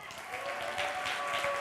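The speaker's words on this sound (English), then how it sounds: "Clap if you want to hear at least one of them." Audience applause at a church Sunday celebration service, a steady wash of many hands clapping throughout, fairly distant and even, with faint voices underneath.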